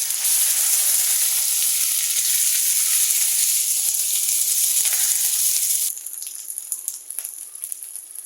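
Ginger-garlic paste fries in hot oil for a beef liver curry with a loud, hissing sizzle that drops to a softer crackle partway through, with scattered small pops and scrapes near the end.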